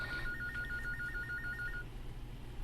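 A telephone rings with a rapid warbling trill lasting under two seconds, fairly faint over a low background hum.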